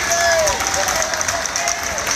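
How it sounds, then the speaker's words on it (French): An outdoor street crowd in Nantes applauds firefighters passing during a tear-gas protest: loud, continuous clapping mixed with shouts and cheers, voices talking over the din. "Laisse passer les pompiers, ils applaudissent."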